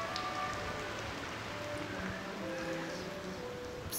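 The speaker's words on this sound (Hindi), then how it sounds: "बारिश होने लगी।" Rain pours in the video game Sky: Children of the Light, a continuous dense hiss layered under soft sustained game music tones, even in level from start to end.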